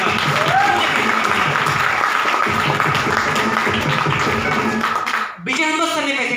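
A seated audience at an Indian business gathering claps steadily and loudly for several seconds. The applause ends abruptly, and a voice starts speaking.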